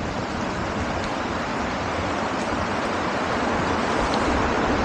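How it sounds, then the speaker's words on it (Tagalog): Ocean waves and rain at a coastal fishing and camping spot in Real, Quezon, a dense, steady wash of broadband noise with no distinct breaks, loud and continuous throughout. "alon, ulan"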